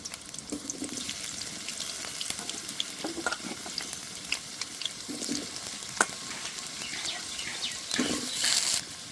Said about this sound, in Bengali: তেল গরম হয়ে গেছে, এবার আলুগুলো ভেজে নেব।